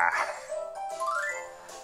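A miniature dachshund gives a few close, high yips and whiny barks, fairly loud, with little else around.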